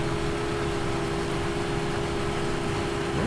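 John Deere tractor engine in Farming Simulator 17 running at a steady, loud drone with a constant hum throughout, close and uninterrupted, no voices.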